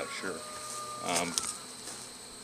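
Agitated honeybees buzzing around an opened, modified Warre hive during an inspection, a close, wavering drone that swells briefly midway while a voice speaks over it.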